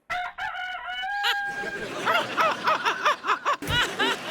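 A comedy stage performer imitates a rooster crowing, opening with a long drawn crow, then launching into a rhythmic series of squawky, clucking bursts, close and loud.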